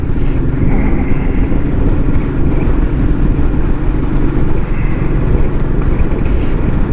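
Royal Enfield Meteor motorcycle on the move, its steady engine drone buried under loud, continuous buffeting wind noise across the microphone, no voices.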